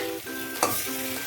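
Garlic paste drops into onions already fried red, giving a sharp sizzling burst near the middle amid steady frying hiss and stirring scrapes, close and moderately loud with no talk.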